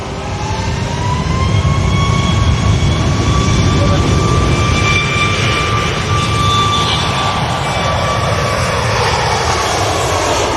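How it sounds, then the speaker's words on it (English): A Ryanair jet departs Manchester Airport with a loud, sustained engine roar that fills the whole clip. A steady whine rides on top of the roar and slowly rises in pitch as the aircraft powers away. "I'm guessing that this Ryanair is going to be departing in the next moment or two"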